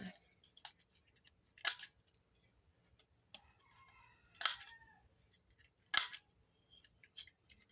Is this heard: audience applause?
no